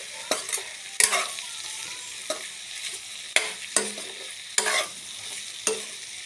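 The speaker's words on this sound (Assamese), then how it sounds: "তলত লাগি নোযোৱা কৰি এনেকৈ অলপ ফ্ৰাই কৰি থাকিব।" Pork stir-frying in a pan for a curry, a bright sizzle with regular sharp scrapes and clanks of a spatula every second or so, close and fairly loud.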